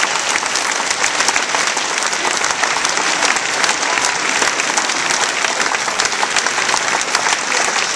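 Sustained, dense audience applause at the opening of a magic festival in Bamberg, loud and steady throughout with no talking over it.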